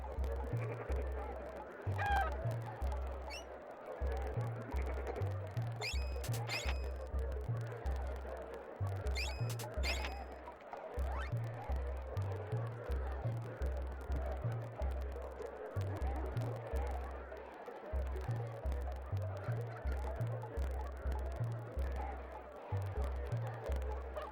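Chickens clucking in the SNES game Secret of Evermore, rendered as repeated synthesized honking squawks over a looping low rhythmic game soundtrack, with a few bright chime-like effects layered on top.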